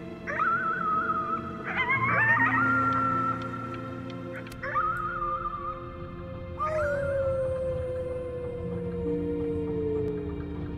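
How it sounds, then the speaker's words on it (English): A creature in a Pokémon video game howls at the moon, several rising, wavering howls in sequence over sustained synthesized game music, the last howl slowly sliding downward. "You howled at the moon."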